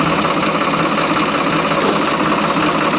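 A tractor engine runs at a steady, loud, close idle with a continuous knocking diesel rumble. No other sounds stand out and no voices are heard.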